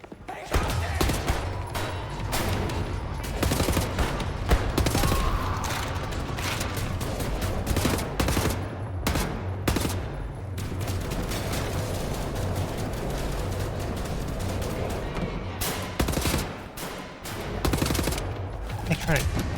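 Dense gunfire from the video game Wolfenstein: The New Order, rapid automatic bursts and repeated sharp shots crowding one another for the whole stretch, loud and continuous with mechanical clatter, and a voice talking intermittently underneath.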